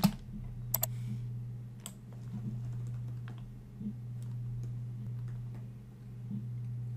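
A computer mouse clicks during a file upload, with a few sharp clicks at the start and sparse, faint taps afterward over a steady low electrical hum.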